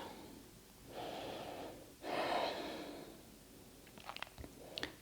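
Two deep breaths during a chest-opening yoga session, a slow inhale followed by a stronger, longer exhale, close and soft, with a few small clicks afterward.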